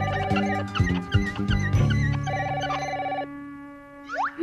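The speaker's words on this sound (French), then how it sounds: "Mince, le téléphone!" A telephone bell rings in repeated electronic trills, loud and close, with a few rattling knocks mixed in before the ringing stops.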